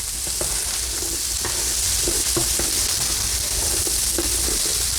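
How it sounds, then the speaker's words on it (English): Vegetables for spaghetti squash jambalaya stirred in a frying pan: a loud, dense sizzle throughout with soft rhythmic scraping and knocks of the spoon, close up and free of speech. "I'm gonna stir the veggies real quick."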